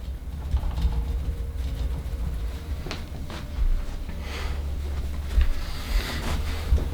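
The base of a Secretlab Titan gaming chair being shaken, giving a faint, quiet rattle and a few soft mechanical clicks over a low rumble, with no talking.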